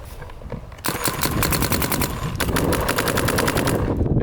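Rapid bursts of shots from a Planet Eclipse Geo R5 paintball marker, a fast mechanical popping stream that runs loud and steady for several seconds after a short pause, with no talking.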